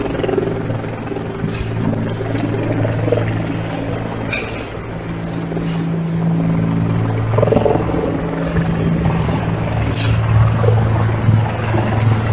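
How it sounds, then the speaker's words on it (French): A helicopter's steady, low rotor drone hangs over a Montreal street near McGill University throughout, rumbling continuously with city noise mixed in. "Hélicoptère."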